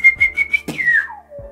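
A mouth-whistled firecracker imitation: four short, quick whistle chirps, then a long falling whistle like a descending rocket, with a soft puff of breath at the close.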